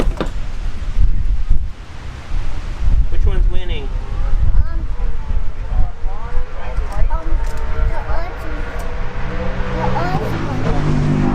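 Wind buffets the microphone in a steady rumbling roar at a bracket drag racing event while several people talk over it.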